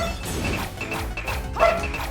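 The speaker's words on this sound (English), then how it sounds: "Paige, no barky" Pet dog named Paige barking indoors in short yips and whimpers, a few quick bursts heard under game sound, with a clearer yelp near the end.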